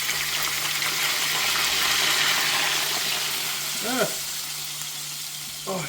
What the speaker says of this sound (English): we're gonna add our milk very slowly because we don't want it to spill over